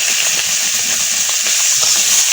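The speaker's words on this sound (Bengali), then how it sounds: "আর দেখেন গরম তেলে আমি মাছটা ভালোভাবে ভেজে নিচ্ছি মাছগুলো" Fish fries in hot oil with a close, steady crackling sizzle and fine spitting pops, constant and loud throughout with no talking.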